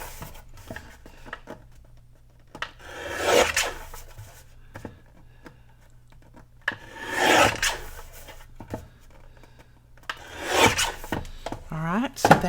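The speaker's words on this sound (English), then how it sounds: "I do want to trim off this little white around the edges." Paper being trimmed to cut white edges off a scrapbook page, heard as a few short scraping, rasping passes close by with quiet gaps between them.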